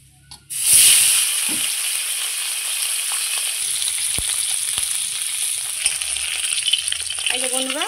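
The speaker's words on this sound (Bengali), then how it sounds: "এইবার আমি যে বাদবাকি মাছগুলো আছে আবারও ভেজে নেব" River fish frying in hot oil, a sudden loud sizzle bursting in as the pieces hit the pan, then a sustained crackling hiss with occasional pops and a faint clink of utensils.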